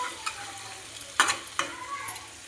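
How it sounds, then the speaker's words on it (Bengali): Chicken fries in a pan with a soft, steady sizzle while a utensil scrapes and stirs it in a few quick, close strokes, with no voices. "এইভাবে 2 মিনিট অন্তর নাড়াচাড়া করব"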